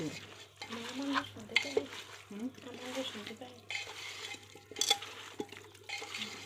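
Beef being stirred and mixed in a pressure cooker pot, wet squelching and scraping in irregular bursts with faint sizzling and occasional clinks of a utensil against metal, up close.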